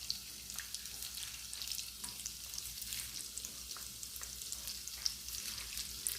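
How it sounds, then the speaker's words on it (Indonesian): Round dough balls deep-frying in oil, a steady crackling sizzle with scattered pops, close and even throughout with no talking. "Nah ini digoreng sampai selesai ya teman-teman ya"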